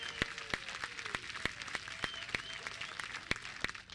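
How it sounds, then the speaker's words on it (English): Applause from an audience at an outdoor village midsummer concert, with sharp individual claps standing out in a steady rhythm over a dense wash of hand clapping. "Let's hear a big hand if you've enjoyed this year of concerts."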